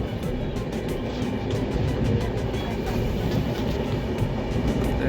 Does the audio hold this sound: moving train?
yes